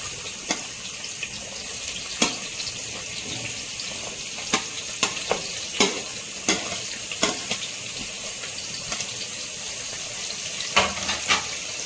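Sliced onions frying in oil for mutton biryani, a constant close sizzle broken by frequent sharp clicks of a utensil stirring against the pan, no voices.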